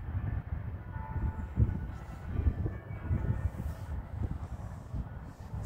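A goods train passes some distance off during a morning walk, a steady low rumble of freight wagons rolling along the rails that holds for several seconds with no voices over it.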